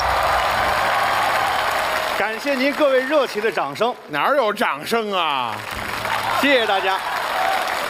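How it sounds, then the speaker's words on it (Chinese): Studio audience applause on a Chinese television variety stage swells at the start, drops away while someone speaks, then returns as a steady broad wash near the end. "感谢您各位热情的掌声。"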